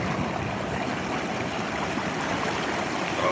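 Strong surf on a California beach makes a steady, broad wash of water noise with no clear breaks, close and continuous throughout.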